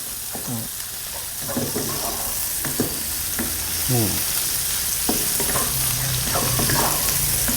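Pineapple fried rice with shrimp being stir-fried in a pan, a constant loud sizzle with repeated scraping and clanking of the spatula against the pan, close by and without talking.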